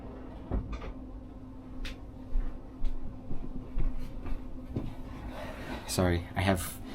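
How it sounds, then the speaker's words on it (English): A bedroom door is pushed shut, ending in a close thump and latch click after some shuffling and handling noises, with a person talking softly around it. "I do want to close my door."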